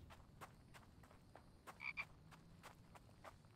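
Frog croaking in a video game: faint, sparse croaks and clicks repeat at irregular intervals over a quiet ambient bed, with a brief brighter chirp in the middle.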